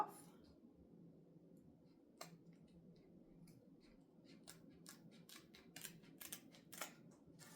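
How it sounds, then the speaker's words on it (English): Scissors trimming excess ribbon and cardboard on a Christmas sewing project, a run of quiet close snips and clicks that grows denser toward the end over soft low background noise. "I'm just going to trim away the ribbon or the cardboard or both"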